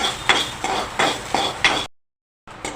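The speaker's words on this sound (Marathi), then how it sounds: "थोडंसं तेल नावाला आणि हलकंसं भाजूया आपण आलं" Ginger lightly roasting in a little oil, with a soft sizzle and rhythmic scraping of a spatula or spoon against the pan, about five strokes, then a brief silence before the sound resumes, close up with no talk.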